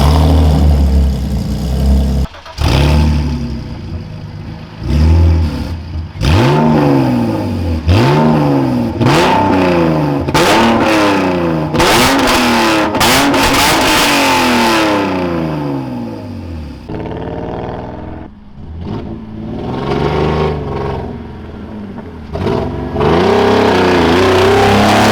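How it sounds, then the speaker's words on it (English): A BMW E46 engine cold-starts through a new exhaust setup with a small resonator, revving loudly in a series of rising and falling sweeps over a steady idle, up close and alone. "we're gonna do cold start number 2 with the new setup"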